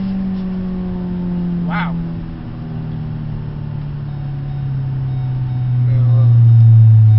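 A 2012 Ford Focus SE with a manual gearbox pulls away, its engine droning steadily and swelling louder near the end, with people talking and exclaiming over it.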